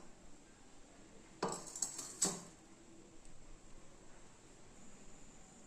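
A metal pot clanks down onto a stovetop in two quick knocks while making tomato rasam, close and brief, followed by quiet kitchen hiss.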